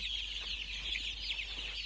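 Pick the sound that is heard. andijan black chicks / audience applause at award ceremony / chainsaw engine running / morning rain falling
andijan black chicks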